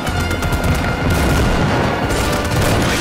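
Explosions and gunfire in Army Men of Tan War, the battle for Saint Green: loud, dense booms and rapid shots piling into a continuous roar of combat for several seconds.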